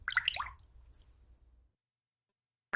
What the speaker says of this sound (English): The sequence of drops reveals the patterns of water interaction.